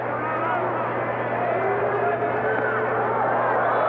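Subdued murmur of a 1981 baseball crowd in Pittsburgh, Padres at Pirates, a steady low wash of distant voices and hum with no cheering or sharp peaks, fairly quiet throughout.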